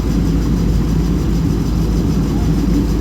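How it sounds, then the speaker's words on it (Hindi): An airplane's engines drone steadily during a flight over the snowy Himalayas toward Leh, a loud continuous low rumble heard from inside the cabin with no clear speech. "ये देखिए आप, ये हमारा हवाई जहाज़ चलता हुआ है।"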